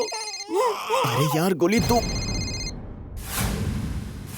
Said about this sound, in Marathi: रिंग तर इथेच कुठेतरी वाजते.